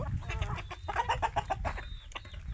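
Chickens cluck close by in a quick, uneven series of short calls, with a few higher squawks mixed in over light background noise.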